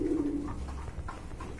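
Soft, steady cooing from pigeons kept for sale at a market stall fills the short stretch, close by and without speech.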